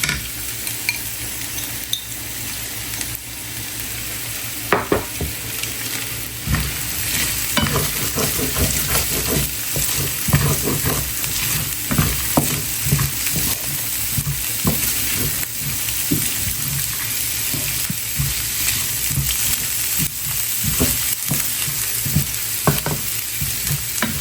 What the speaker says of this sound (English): And I fry this up separately because this is a little bit more cooking for the bora